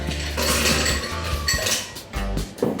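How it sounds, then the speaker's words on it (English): Ice cubes clatter and clink into a kiwi and apple cocktail mixed with cream and yogurt, a busy burst of rattling, close and fairly loud. "Now to this, we are going to add the ice cubes."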